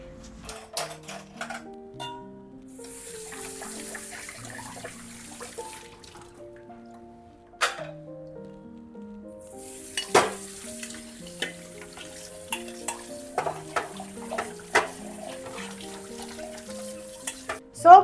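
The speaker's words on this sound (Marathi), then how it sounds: "पटापट सुद्धा विसळून घेतली" Washed plates and utensils are rinsed under running water in a home kitchen, with scattered clinks and clatters of dishes over a soft, steady wash of water, close by and without talk.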